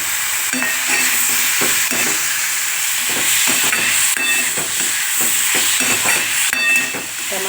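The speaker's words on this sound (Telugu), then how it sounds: "కారం బాగా వేగిన తర్వాత టమాటా ముక్కలు వేసుకోవాలి." Chilli powder frying in a pan as the base for a bottle gourd and prawn curry: a close, continuous sizzle broken by repeated scraping stirs of a spoon, with no voices.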